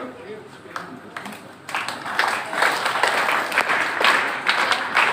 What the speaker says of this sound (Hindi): वो जो स्काउट एंड गाइड वाली ताली बजाते ना